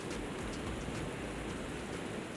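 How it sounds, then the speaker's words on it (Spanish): Heavy rain pours steadily at a beach campsite on Costa Rica's Pacific coast, a dense continuous hiss of drops drumming on surfaces, with no voices. "el tiempo no era partidario de nuestros planes y nos envió una lluvia muy fuerte"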